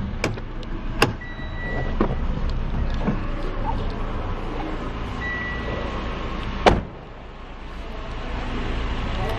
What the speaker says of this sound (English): Now I'm going to open the vehicle as in the bonnet.